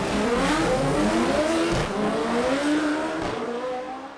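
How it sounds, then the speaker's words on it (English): A Lamborghini fitted with Garrett turbos and intercooler revs hard as it lifts into a wheelie, a loud rising engine wail with a brief tyre squeal, close and alone, fading out at the end. "Garrett added their turbos and intercooler to this exotic. Even a Lamborghini can do a wheelie."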